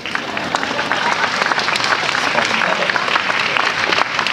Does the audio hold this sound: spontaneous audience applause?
yes